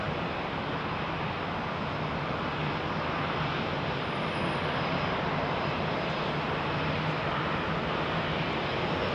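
Boeing Dreamliner airliner engines at Heathrow runway 27R, producing a loud, constant, dense roar that holds steady for the whole stretch without speech.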